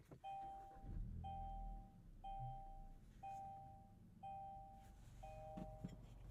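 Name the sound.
car start-up chimes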